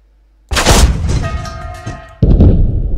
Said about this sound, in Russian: Второй выстрел.